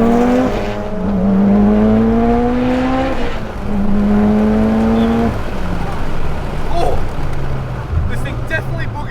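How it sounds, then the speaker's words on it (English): A built 600HP Mitsubishi Evo X with a 2.2L stroker engine pulls hard, its loud exhaust note climbing steadily through two gear shifts before easing into a rumbling cruise with road noise. "my first pull in this Evo 10"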